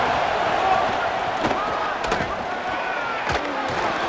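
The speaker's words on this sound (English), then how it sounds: "This crowd ready to make its presence known." Stadium crowd in the EA Sports College Football video game, a steady broad roar that fills the whole stretch, with a few sharp thumps and brief rising cheers standing out above it.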